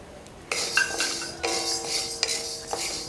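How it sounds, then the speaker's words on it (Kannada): Jowar grains roasting in a pan while being stirred: about four distinct metallic scrapes and clinks of a spoon against the pan over a grainy rustle, close and fairly loud, with no talking. "ಈಗ ಜೋಳನ ಹುರ್ಕೊಳ್ಳೋಣ"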